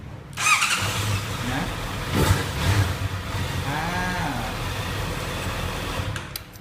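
A Honda CB650F motorcycle engine cranks and fires up, then settles into a steady idle, with brief spoken words over the running engine.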